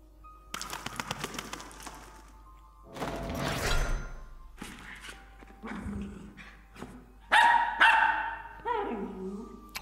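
A dog in the video game TSIOQUE gives a series of close barks and yips, some sharp and rapid, others longer and whining, with no talking.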